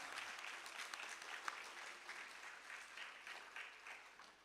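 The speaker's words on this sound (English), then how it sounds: "So just let's give them a round of applause." A graduation-ceremony audience at a junior school applauds the graduates, steady moderate clapping throughout at a slight distance, with faint background voices.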